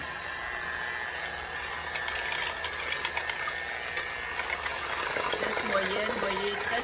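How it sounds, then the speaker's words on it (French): An electric hand mixer runs steadily at medium speed, whirring and rattling as it blends eggs and wet ingredients for a gluten-free protein bread, with a continuous mechanical drone throughout. "c'est carrément un petit mixeur pour mélanger les ingrédients humides, les œufs et tout ça. Donc, on peut le mettre sur une vitesse moyenne."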